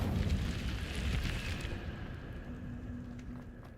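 A fiery Incendio spell bursts in a roaring whoosh of flame that fades over a few seconds into a softer crackling rumble, fairly quiet overall.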